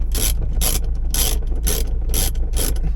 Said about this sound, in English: grab our socket, and we just want to tension it up